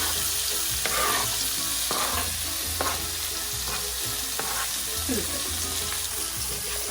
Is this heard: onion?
yes